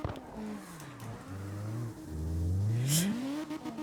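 A drift car's engine in CarX Drift Racing on the Red Rock map revs and climbs in pitch through rising gear pulls, loud and close with no voices over it.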